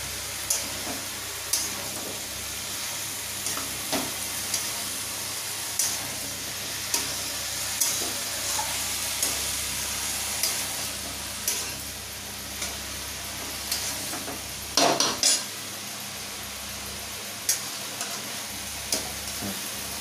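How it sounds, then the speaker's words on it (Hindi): Ridge gourd stirred and frying in hot oil in a home kitchen, with a steady sizzle and regular scraping strokes of a spoon, plus a louder clatter near the middle; no one speaks. "तेल छूटने लगे तो इसी टाइम आपको इसका किया हुआ नेनुआ है इसको हमको डाल देना है।"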